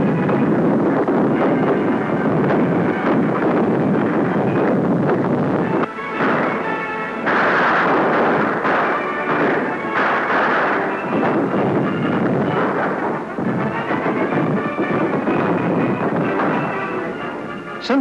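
Gunfire from real guns in a D.W. Griffith battle film scene, shown in a 1972 documentary, roars as dense, continuous volleys and booming blasts with a wind-like rush, loud and unbroken throughout.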